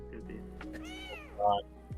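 A single drawn-out cat meow from a ghost video game sounds mid-clip over soft game background, with a voice speaking briefly around it.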